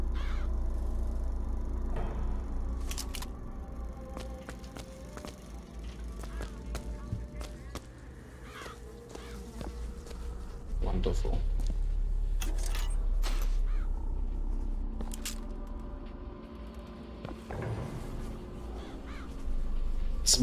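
Crows cawing in BioShock Infinite, harsh calls scattered over a low rumbling ambient background, with occasional thumps and rustles, moderately loud and intermittent across the stretch.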